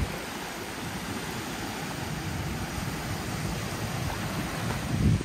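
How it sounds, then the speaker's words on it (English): Small waves trickle up a quiet beach shore in the Philippines, a steady soft wash of surf heard close with light wind noise and a slight swell near the end, and no voices. "Listen to the soothing sound of these small little waves trickling up the shore."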